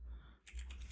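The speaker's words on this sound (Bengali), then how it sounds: "আমরা এখানে এন্টার প্রেস করলাম" Keys clack on a computer keyboard as a git command is typed and enter is pressed, a few quick, faint, close taps over a low hum.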